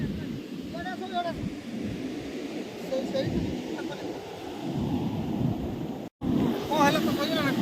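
Sea waves break on a beach in a continuous rushing surf roar, buffeted by wind noise on the microphone, with people talking and calling out over it.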